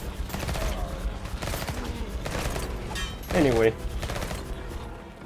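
A short, loud burst of Uzi gunfire in the video game Bloodshed, one rapid volley lasting under half a second, with someone talking before and after it.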